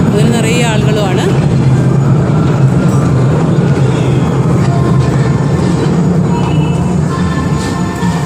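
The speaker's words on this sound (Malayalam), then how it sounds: "നമ്മൾ നേരത്തെ പോയ ട്രെയിൻ വന്നുകൊണ്ടിരിക്കുകയാണ്" A miniature passenger railway train full of riders rolls loudly into a station at Veli, a steady rumble with rhythmic wheel clatter filling the whole span.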